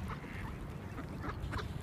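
Faint honking calls from swans come in short bursts over a steady background rumble, distant and without talk.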